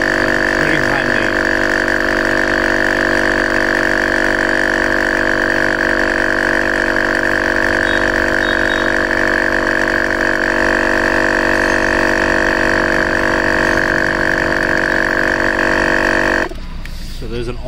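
A 12-volt tire inflator plugged into a car socket pumps a car tire toward 33 psi, a loud steady buzzing drone with a harmonic whine that runs unbroken for about sixteen seconds, then shuts off abruptly.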